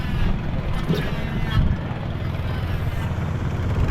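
A small boat engine drones steadily, a low rumbling hum mixed with wind and water noise, close and fairly loud for the whole stretch.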